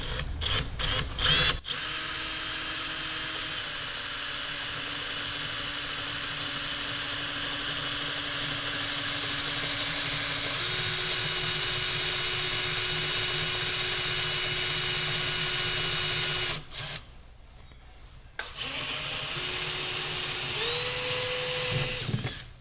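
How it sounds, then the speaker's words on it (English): A power drill whirs steadily at high speed, drilling a pilot hole through the body of a 1953 bus, its pitch shifting a few times, with a brief drop in sound before it spins up again. "We're gonna drill a pilot hole right where the wire is gonna go through."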